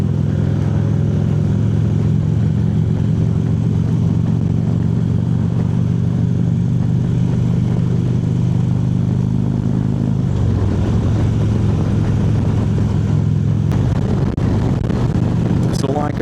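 Motorcycles ride a poker run route on a sunny day, engines droning steadily and loud throughout with a shift in pitch partway through, wind rush over the top, and voices talking underneath.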